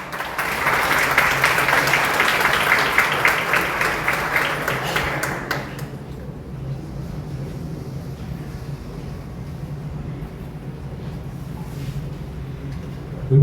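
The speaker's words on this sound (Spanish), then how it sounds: "Fuerte aplauso al señor Juan Antonio Maruri Jiménez." Loud audience applause at a conference on governance and peace in Ecuador, a sustained round of rhythmic clapping for about six seconds before fading into a quiet, humming room tone.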